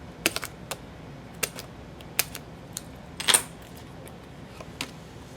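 Pieces being cut out one after another for a small craft piece: a scattering of sharp, brief snips and clicks, close and fairly quiet, with a small cluster just past the midpoint and no talking.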